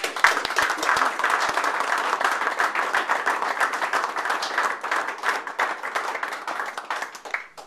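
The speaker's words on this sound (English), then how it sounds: "let's have a little applause for announcement of this tournament." Audience applause greets the announcement of a Rugby Canada tournament, a dense, steady wash of many hands clapping that holds for several seconds at moderate distance without voices.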